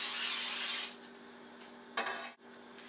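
Cooking spray hisses lightly onto a pizza pan in a short burst of under a second, followed by quieter scattered spritzes and a faint clatter against a low steady hum.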